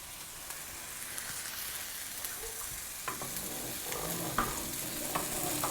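Tomato and chile cooking in a pan for carne con chile, with a steady low sizzle and frying hiss plus occasional stirring scrapes toward the end, no voices.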